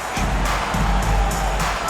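An arena crowd cheers during a basketball video game with Cavaliers at Quicken Loans Arena, a continuous loud roar of many voices with a rhythmic pulsing clap or stomp pattern.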